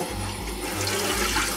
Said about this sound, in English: what I'm also going to do is just rinse out the pot